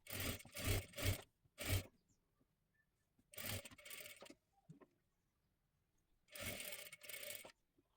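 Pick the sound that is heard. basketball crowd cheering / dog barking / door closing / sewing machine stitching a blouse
sewing machine stitching a blouse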